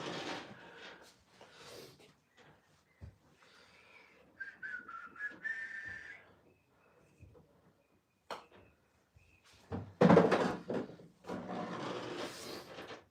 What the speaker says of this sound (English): Somebody's out with a whistle.